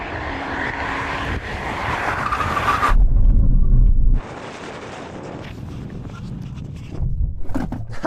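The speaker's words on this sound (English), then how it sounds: "What about when it comes to braking? Because this is heavier. Let's do a brake test. Here we go, 100 miles an hour." A BMW iX3 electric SUV brakes hard from 100 mph on a test track: loud rushing wind and road roar fade as it slows, then a brief lull before noise swells again.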